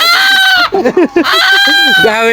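Chickens squawk and cluck loudly and close by while being caught in a rural hill village, with a rooster crowing over the flapping commotion.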